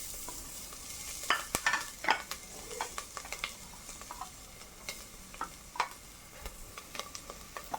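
Crushed ginger and garlic with coconut pieces frying in a pan for chickpea curry, stirred with a soft sizzle beneath and sharp utensil scrapes and clinks in an irregular rhythm, close and fairly quiet.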